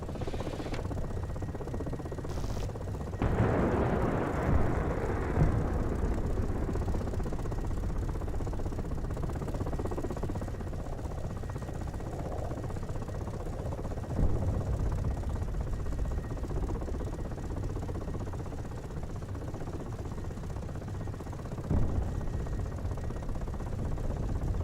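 Steady, loud broadband roar of wind and engine fills an aircraft cockpit with the window open in the flight simulator game DCS, with a few dull thumps along the way and no talking.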